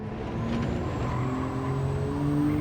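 A Nissan R34 Z-Tune engine runs at full throttle in third gear on a Kyoto lap in a racing video game, a loud, steady, climbing whine of revs that holds for the whole stretch with no talk.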